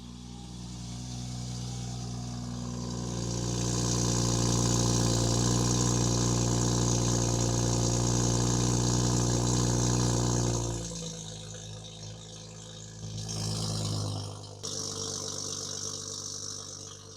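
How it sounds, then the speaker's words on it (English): A 2019 BMW X5 40i with a catless downpipe and tune starting cold: a loud, steady high idle drone that drops and settles to a quieter idle, with a brief swell before steadying again. "Cold start on my 2019 BMW X5 with a Catless downpipe and a Brooklyn Euro tune."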